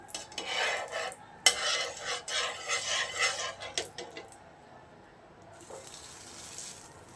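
Dabeli filling frying in ghee in a pan, stirred with a spoon in quick scraping strokes and a soft sizzle for a few seconds, then fading to a quieter hiss with an occasional clink near the end.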